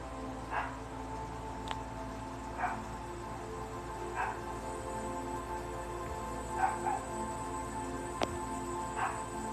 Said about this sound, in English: I do apologize for the barking though.